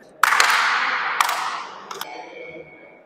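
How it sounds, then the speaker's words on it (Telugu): Sharp hand claps crack out in a rock-cut cave temple, an irregular burst of several loud claps. Each one trails off in a long ringing echo before the last few fade away more softly. "ఈ గుహలో క్లాప్స్ కొడితే రీసౌండ్ ఒక రేంజ్లో వస్తున్నది"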